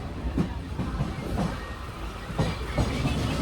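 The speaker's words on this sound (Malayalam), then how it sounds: "ഗോരഖ്പൂർ ട്രെയിനാണിത്" A Gorakhpur passenger train rolls along from inside the carriage, with a continuous rumbling roar and regular clickety-clack wheel beats recurring every second or so.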